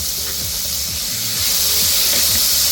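A mixture of green peas and fresh coriander for thecha sizzles as it is sautéed in a pan, a loud continuous frying hiss with faint scraping stirs underneath.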